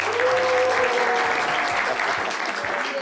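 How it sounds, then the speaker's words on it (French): Studio audience applause for a guest's coach on a French midday television show: steady, dense clapping that stays loud and close for the whole stretch, with a faint sustained tone underneath. "On peut l'applaudir très fort"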